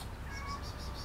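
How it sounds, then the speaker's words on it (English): A cat gives a few short, close meows over a steady background hum, with harmonic cries repeating at a quick, even pace through the brief moment. "That's exactly how my cat meows."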